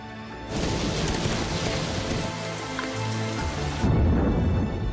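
Steady heavy rain pours down in a dense, continuous hiss, with a deeper rumble swelling near the end.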